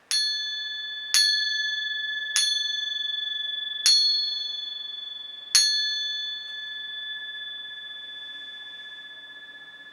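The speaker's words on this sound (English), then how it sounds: "I'm going to hit the gong and just follow the sound of the gong." A resonant metal gong struck five times at spaced intervals, each strike ringing clearly and sustaining into a long, steady decay that hangs alone after the last hit.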